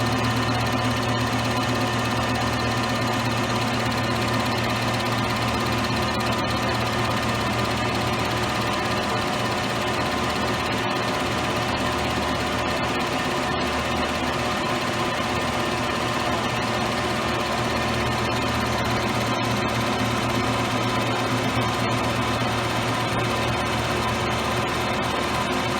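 A lathe facing off the side of a workpiece runs as a continuous, steady mechanical hum and whir with faint cutting chatter, moderately loud and unbroken throughout.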